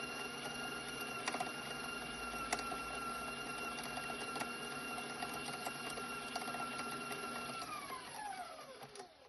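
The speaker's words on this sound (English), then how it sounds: "putting it into your mixer and letting it mix by itself so it loosens and actually becomes creamy" Electric stand mixer creaming butter alone in a bowl, a steady whirring motor hum with faint rhythmic ticking of the beater, running evenly before winding down near the end, with no talk.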